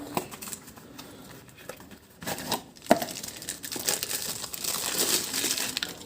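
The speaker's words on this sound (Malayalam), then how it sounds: "പുതിയ ഫിൽറ്റർ ഞാൻ അൺബോക്സ് ചെയ്യട്ടെ." Packaging crinkles and tears while a new engine oil filter is unboxed during an oil change, a steady close rustle of plastic and cardboard with a few sharper crackles, no talking.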